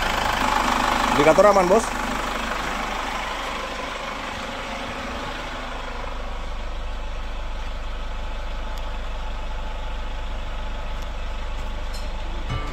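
A Chevrolet Captiva FL AWD diesel with hard starting, weak pull and smoke runs in a steady, close idle with a brief rev near the start, while someone talks over it.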